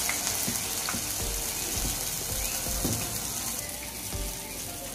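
Medu vada, urad dal fritters, frying in hot oil, giving a steady, dense sizzle and crackle with occasional soft bubbling pops, close and continuous, with no talking.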